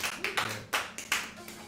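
A handful of separate, faint hand claps from the audience at an open mic during an Indigenous festival at the Loisaida Center.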